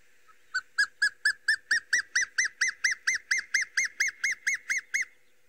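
A dark chanting goshawk gives a recorded call: a run of about eighteen evenly spaced, clear whistled notes that climbs slightly and then holds a steady rhythm, loud and alone with no talking.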